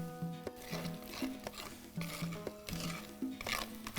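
Masala frying in hot oil for a fish curry, a soft sizzle with repeated scraping strokes of a spoon stirring the pan, up close and fairly quiet.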